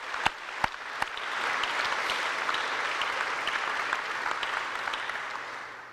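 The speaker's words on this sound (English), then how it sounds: "let's give them a round of applause too" Audience at a North Dakota National Guard welcome home ceremony for the 1st Battalion, 188th Air Defense Artillery gives a sustained round of applause, opening with a few sharp claps before swelling into steady crowd clapping that carries on throughout.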